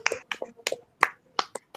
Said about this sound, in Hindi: एक ऊंची ताली